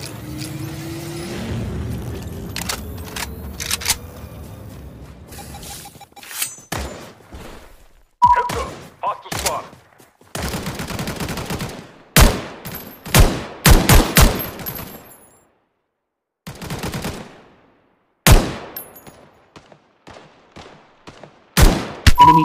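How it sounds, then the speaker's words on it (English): Bursts of gunfire and heavy bombardment impacts in the battle royale game Omega Legends, arriving in sharp, irregular volleys separated by brief gaps, with short electronic tones mixed in. "Warning. Incoming bombardment."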